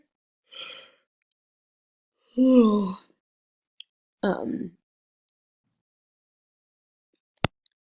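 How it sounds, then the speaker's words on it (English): A single drawn-out yawn with a falling, groaning pitch, framed by a few short breaths and small clicks in an otherwise quiet room. "excuse me, another yawn coming."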